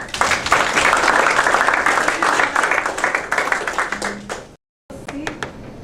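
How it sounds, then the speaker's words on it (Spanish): An audience at a talk on legal matters gives a round of applause for the expert, dense close clapping that thins into scattered claps, breaks off abruptly, then resumes briefly with a few individual claps. "tomarle un aplauso a nuestro experto"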